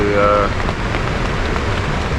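Rain patters steadily on a tent at a wilderness campsite along a river portage route, a dense even hiss of drops with a brief tonal sound at the start.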